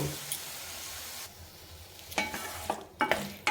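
Small pieces of boneless chicken fry in a pan for a samosa stuffing, a soft sizzle at first, then several sharp, close stirring scrapes and clatters in bursts.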